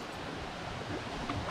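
Steady broadband rush of a flowing stream with a dog splashing in it on a mountain-bike ride near Le Mont Joly, continuous and fairly close with faint brief splashes near the end.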